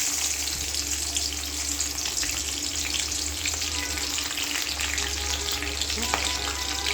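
Green chillies fry in hot oil as the first step of spicy poha, giving a loud, steady, close sizzle that crackles without a break and has no talking over it.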